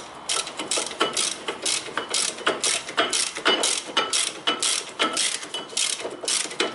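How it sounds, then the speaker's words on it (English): A ratchet wrench with a 17 mm socket clicks steadily while tightening a bolt on a 2002–2010 Toyota Corolla front brake, with rapid repeated pawl clicks in regular strokes, close and clear with no talking. "17 millimeter tool, and there is 17, and then I start to fasten this bolt"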